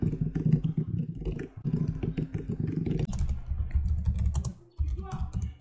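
Rapid typing on a computer keyboard, a close, steady clatter of keystrokes in bursts with brief pauses between runs.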